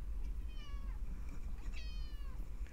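A house cat meows twice indoors, a drawn-out falling cry followed by a second rising-and-falling meow, moderately close over a low steady background hum, with no talking.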